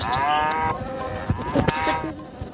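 A cartoon cow in the Mina video game lets out a drawn-out moo, followed by a few short game sound effects.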